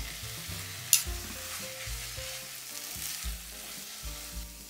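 Noodles sizzling in sauce in a pan, a soft steady sizzle with stirring scrapes and one sharp clink near the start, fairly quiet and without speech.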